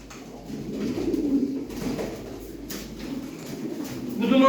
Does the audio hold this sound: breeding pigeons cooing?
yes